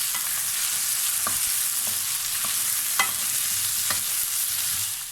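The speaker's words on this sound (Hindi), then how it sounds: "तेज़ आंच के ऊपर 2 से 3 मिनट तक मैं आलूओं को इसके अंदर फ्राई कर लूँगी।" Cubed potatoes fry on a high flame for stuffed karela, a steady loud sizzle filling the clip with several sharp stirring scrapes and clinks of a spoon against the pan.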